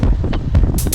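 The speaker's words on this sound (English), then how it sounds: "You can hear the wind." Wind gusts into the microphone of a cyclist riding a slight downhill, giving a near, continuous low buffeting rumble with a few brief hissy bursts and no speech.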